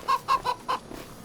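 Chickens on a farm cluck in four quick, fairly close bursts, followed by softer scratchy farmyard noise with no talking.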